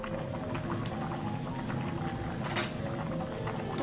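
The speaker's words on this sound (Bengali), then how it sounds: "চুলা বাড়াইলে শুধু চুলার শব্দটা আসে" Gas stove flame roaring steadily under a simmering pot of potato curry, a constant broadband hiss with faint bubbling, close and fairly loud throughout.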